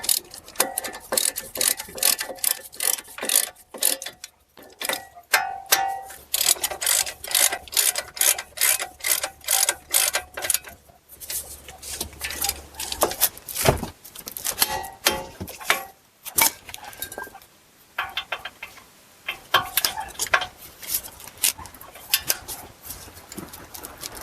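A ratchet wrench torques the wheel bearing bolts on a 2010-2016 Buick Lacrosse. Bursts of rapid clicking pawl strokes come in repeated runs with short pauses, close up and clear, with no talk over them.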